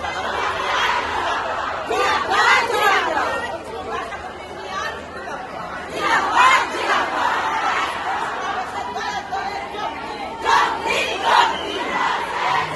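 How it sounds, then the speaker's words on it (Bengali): ASHA health workers protesting over pay and demands, seated and chanting slogans together, a continuous loud crowd of voices with rising bursts of shouting and chatter throughout. "আমরা এই বসে পড়েছি, স্লোগান দিচ্ছি"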